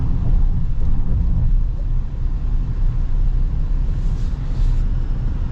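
Pickup truck cruising on the road, a 2025 Ram 1500 Limited or a 2025 GMC Sierra Denali with a turbocharged engine, giving a steady low rumble of engine and road noise inside the cabin at a constant level.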